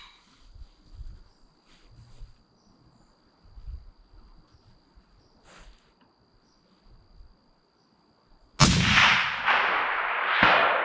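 A 300 Win Mag sniper rifle fires once, a sudden loud blast near the end that rings out and decays, preceded by quiet outdoor ambience with insects chirping and a steady high-pitched buzz.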